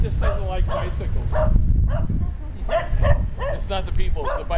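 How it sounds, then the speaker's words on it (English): A dog repeatedly barks at passing bicycles outdoors in a rural, storm-damaged vacation area, the barks mixed with people talking nearby. "He doesn't do anything more than bark, thank God."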